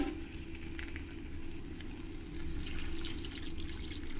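Water poured into a pan of vegetable kurma makes a soft, steady trickle that runs quietly under a low, constant kitchen hum.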